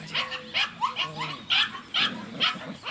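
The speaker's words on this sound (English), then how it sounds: "Nice little dog." A 6.5-week-old puppy gives a run of high, yappy barks and yips, close and fairly loud, about six in quick succession.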